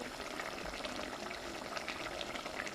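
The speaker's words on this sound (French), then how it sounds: "je vais laisser mijoter tranquillement jusqu'à ce que tout l'eau s'évapore" A turmeric-spiced guinea fowl stew with a little oil simmers and bubbles softly in a pot, a quiet, continuous close-up cooking sound.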